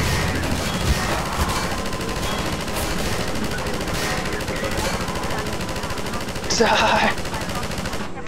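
Rapid, continuous gunfire in Half-Life 2 VR, loud and steady throughout, with a brief shouted voice and a sharper burst near the end.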